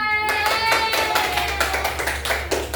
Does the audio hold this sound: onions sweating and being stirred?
no